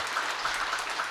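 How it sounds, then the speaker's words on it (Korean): An audience in a church gives a short burst of applause, a brief, moderately loud patter of many clapping hands heard alone. "우리 식당에 계신 분들 위해 한번 박수 한번 좀 보내주시기 바랍니다."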